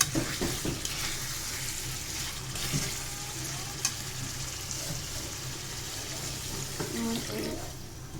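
A pan of dark spices for a fish dish sizzles softly as it fries, making a quiet, steady crackle with occasional stirring knocks.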